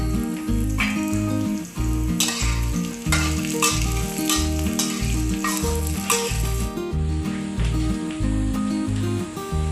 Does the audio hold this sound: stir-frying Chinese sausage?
yes